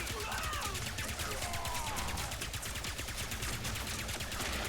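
Rapid gunfire rattles in the Ratchet & Clank: Rift Apart video game as shots are fired at a giant enemy, a dense continuous burst of repeated shots with faint game sounds beneath it.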